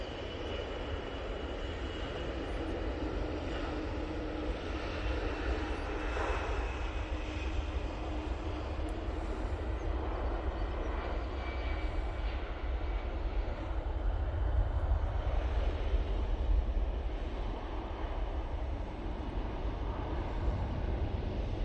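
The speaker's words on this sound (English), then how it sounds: "Emirates A320 CEO now on the roll." Emirates Airbus A320ceo jet on its takeoff roll at Manchester Airport, a broad, distant engine roar that stays steady and swells slightly midway, heard alone.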